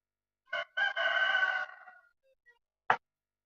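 A rooster crows once, loud and close in a quiet farmyard near the chickens, a stuttering cock-a-doodle-doo followed by a brief sharp squawk a second later.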